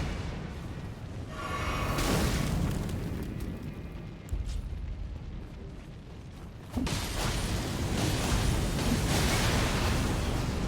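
Fire attacks in Elden Ring roar and rumble in broad, loud bursts, with a heavy surge near the start and another sharp eruption partway through, no voices present.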